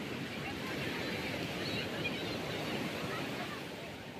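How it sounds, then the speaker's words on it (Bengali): Ocean waves churn the water off the Odisha coast in a steady, broad rushing wash with some wind noise, continuous and fairly close, with no voices. "পুরো ঝটকা দিয়ে দিয়ে জল একদম অস্থির করে দিচ্ছে"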